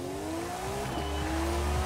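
A Singer-reimagined 1990 Porsche 911 pulls away in Forza Horizon 4, its engine droning loud and steady with a rising pitch and a touch of tire squeal, close and continuous with no talking.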